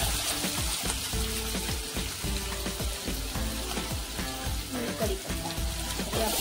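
Finely chopped onion and crushed garlic cloves fry in a pan with a loud, continuous close sizzle and crackle, under a faint background voice.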